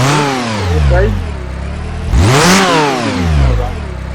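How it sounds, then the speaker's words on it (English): A car engine in an automotive diagnostic simulator cranks and starts, then revs up and down in two clear rising and falling sweeps, loud and close, running on without any talk. "If I'm right, the vehicle should be able to start now."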